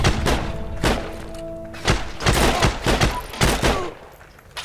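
Video game gunfire: a string of sharp, close shots and thuds coming at irregular intervals, some in quick pairs, loud and punchy, with little talk over them.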